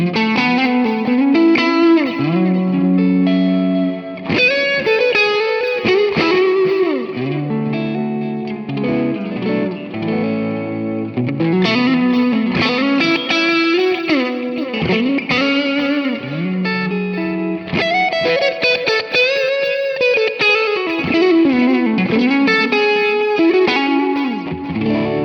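Electric guitar through a Valeton GP5 amp capture with a drive pedal added, playing a continuous distorted melodic riff with chorus-like shimmer, loud, close and steady for the whole stretch with no talk.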